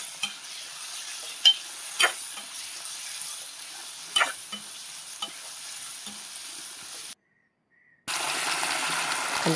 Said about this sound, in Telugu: ఎండ్రాయిలు వేసుకున్నాక ఒకసారి బాగా కలుపుకోవాలి.